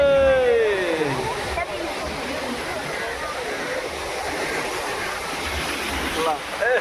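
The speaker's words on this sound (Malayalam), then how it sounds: "ഓ വെള്ളം തെറിക്കണ്ടോ ഈ കല്ലിലടിച്ചിട്ട്" Sea water slaps and splashes against shoreline stones at Fort Kochi, a steady washing surge heard close by, with people talking over it.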